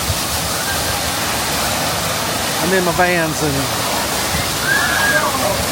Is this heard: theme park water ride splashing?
yes